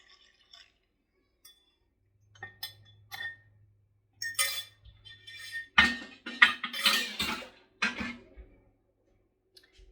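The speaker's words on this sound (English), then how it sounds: "I'm going to give it a little bit of a stir." A spoon stirs dairy-free bread dough ingredients in a bowl, giving sparse, close clinks and scrapes against the bowl in short irregular bursts with quiet gaps between them.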